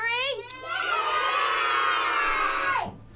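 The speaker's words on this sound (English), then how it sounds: "Now I need a big royal cheer after three." A crowd of children gives a big royal cheer, a loud sustained shout held for about three seconds that swells and then drops away abruptly.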